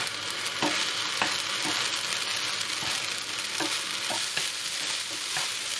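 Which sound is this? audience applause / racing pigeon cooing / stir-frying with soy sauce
stir-frying with soy sauce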